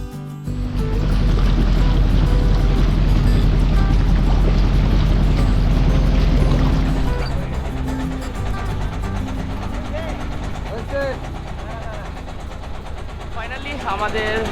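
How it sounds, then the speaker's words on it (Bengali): A trawler's engine drones loud and close as it leaves the ghat on Kaptai Lake, a steady low chugging that eases a little halfway, with people talking over it. "আমাদের ট্রলার ছেড়ে দিছে বিলেশ্বরী ঘাট থেকে"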